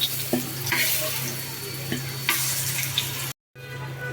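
Final batch of spiced potatoes frying in hot oil, a steady loud sizzle with occasional stirring clicks, broken by a brief total dropout near the end.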